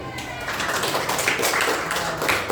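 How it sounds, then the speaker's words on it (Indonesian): A ninth-grade class at SMPN 1 Pangkajene claps for group 1, a scattered run of hand claps with faint voices mixed in, moderately close in a classroom. "tepuk tangan dulu untuk kelompok 1"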